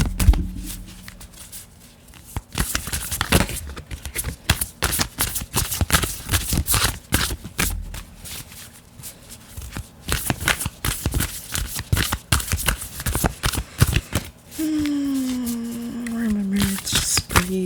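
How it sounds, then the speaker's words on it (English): Large oracle cards shuffled repeatedly in close-up bursts of riffling and sliding, with quiet pauses between, and a soft voice speaking near the end. "Is there a proper way to shuffle the oracle decks?"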